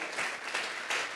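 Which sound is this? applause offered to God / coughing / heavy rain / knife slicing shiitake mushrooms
applause offered to God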